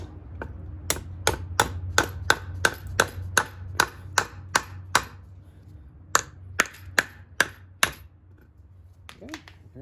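A U-joint being tapped into its bearing cup on a Polaris Sportsman 700, a series of sharp metallic taps at an even pace, a brief pause, then a few more spaced strikes.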